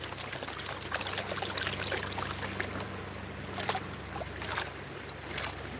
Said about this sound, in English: This is a pretty nice view of the creek though, huh? The sound of the water, relaxing.